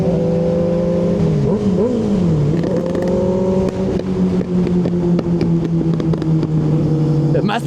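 A Kawasaki Ninja 636 motorcycle with a baffled slip-on exhaust revs up and down, its loud, close engine tone rising and dipping before settling into a steady drone.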